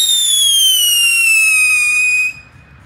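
A firework launched with a loud, steady descending whistle lasting about two seconds before cutting off, leaving faint background noise; close and prominent, no speech.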